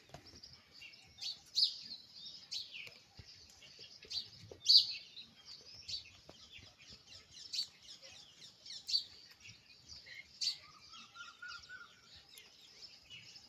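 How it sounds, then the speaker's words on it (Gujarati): Parrots and myna birds chirp and tweet while drinking water, a steady stream of high, bright calls with frequent sharp peaks and a short rising whistle near the end, fairly close and with no talk. "કેવા મસ્ત બે પાણી પીએ પોપટ ને મેના."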